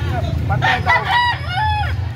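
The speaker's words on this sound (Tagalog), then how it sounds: "Napakadami pang mga manok." A rooster crows close and loud at a Carbon, Cebu poultry market, one full drawn-out call over a steady low hum of crowd noise.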